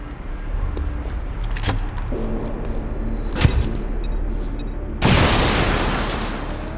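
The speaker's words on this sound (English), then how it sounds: "Throwing grenade!" Grenade explosion in the strategy video game XCOM 2: a few clicks and metallic clinks over a low game rumble, then a sudden loud blast that leaves a sustained, noisy roar.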